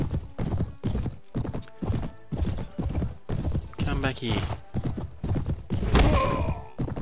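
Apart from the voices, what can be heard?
horse charging in video game Mount and Blade: Warband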